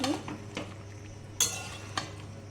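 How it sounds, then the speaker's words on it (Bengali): Chopped capsicum is stirred into chicken cooking in a pan, with low sizzling under a few clear clinks and scrapes of a spatula against the pan, close and moderately quiet. "কুচনো ক্যাপসিকামটা দিয়ে ভালো করে নেড়ে"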